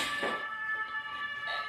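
A fire engine siren passing near offices holds a steady, wavering tone at moderate distance, fairly faint beneath a busy room ambience.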